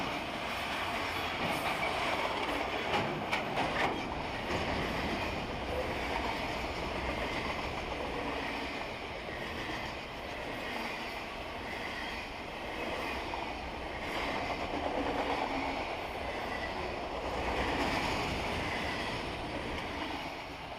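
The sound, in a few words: freight train of auto rack cars passing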